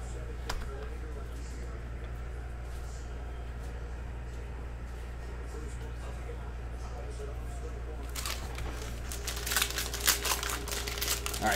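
A cello pack of 2019-20 Panini Mosaic basketball cards is ripped open: close, crisp plastic crinkling and tearing begins after a long stretch of quiet background hum, growing busier and louder toward the end.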